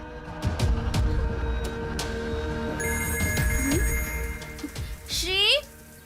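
A telephone rings with a steady electronic ringtone in the middle of a dubbed Hindi film scene, sitting under music and background sound.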